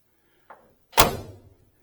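The door of a 1969 Chevelle SS 396 closes with a light latch click followed by a solid, close thunk that snaps shut and fades quickly, with no talk over it.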